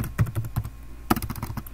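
Someone types a project name on a computer keyboard, with two quick clusters of crisp key taps at an uneven pace, close and clear with no talking.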